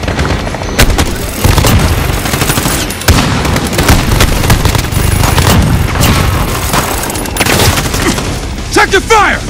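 Loud, dense gunfire from the video game Call of Duty: Modern Warfare, with sustained automatic bursts and booms that run almost without a break, and shouting voices mixed in.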